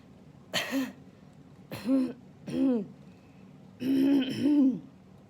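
Five harsh, forced coughs in separate bursts, the last two close together, with brief quiet gaps between them.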